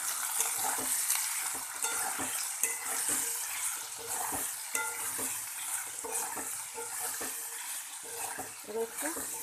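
Potatoes fry with neem leaves in a pan, sizzling steadily while a utensil stirs and scrapes in repeated strokes, with light clatter close by.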